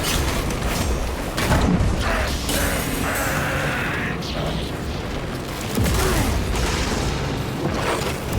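A frag grenade in Warhammer 40,000: Space Marine 2 detonates with heavy booming blasts, mixed with mechanical clanking and rumbling battle noise.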